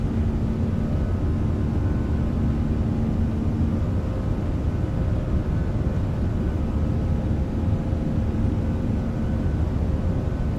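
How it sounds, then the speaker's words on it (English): Air Canada Airbus A340-300 at flex takeoff thrust rolling down the runway, a steady, loud, broadband engine roar with a faint hum, heard from inside the cabin throughout. "Aircraft is moving."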